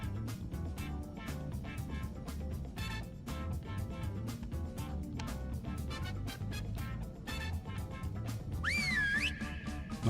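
A rising, then steady, whistle to command a companion creature in the video game Genesis One. It comes near the end over dense, busy game sound effects and music.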